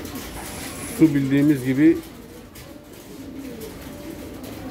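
Pigeons in a loft give a short burst of soft throaty cooing, a rising-and-falling warble lasting about a second, while someone talks over the birds and continues speaking afterward.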